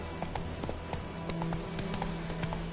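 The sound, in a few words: horse galloping hooves in video game The Witcher 3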